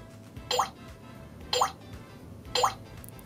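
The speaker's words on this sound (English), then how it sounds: "Both dripping and running water." Three evenly spaced plopping drips from a Minnie Mouse toy kitchen sink, about a second apart, each a short bright bloop over a quiet background.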